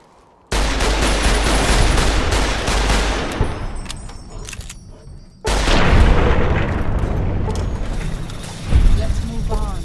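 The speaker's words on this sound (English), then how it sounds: "the simplest way is to just shoot them with my big gun" A big gun fires at Yao guai in Fallout New Vegas, a loud, dense burst of rapid gunfire that booms on for several seconds, pauses abruptly, then erupts again with heavy blasts.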